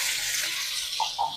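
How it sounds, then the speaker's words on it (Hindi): Water splashing and pouring in a kitchen while potato tahari rice is being cooked, a brief steady gush with a couple of small splashes near the end, close and with no talking. "हल्का सा छींटा लगा लेंगे पानी का।"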